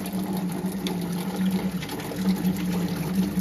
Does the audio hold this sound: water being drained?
yes